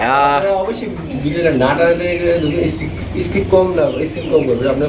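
Pigeons for sale coo in soft, throaty murmurs while people talk over them nearby.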